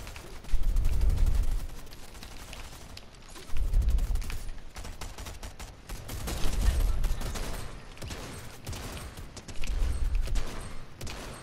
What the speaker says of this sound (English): I don't know why I was shooting that guy we just heard.